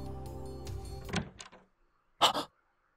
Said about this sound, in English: I hear the door open